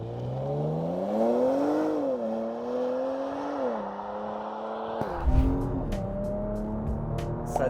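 A Porsche Macan GTS engine revs hard and climbs through gears, the exhaust note rising and dropping with shifts, close and loud and alone, then a sharper burst of crackling noise in wet conditions.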